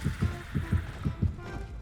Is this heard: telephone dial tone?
no